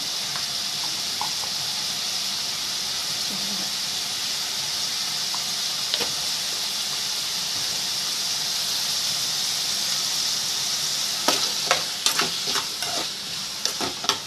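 Raw mango pieces fry and soften in oil for a Telugu mango pachadi, a steady close sizzle holding throughout with scattered crackles and spits that grow sharper and more frequent near the end.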